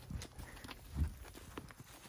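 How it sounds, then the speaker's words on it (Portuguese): A horse walks on a weekend farm outing, its hooves giving faint, uneven clip-clop thuds a few times over soft background noise. "Esse é o cavalo."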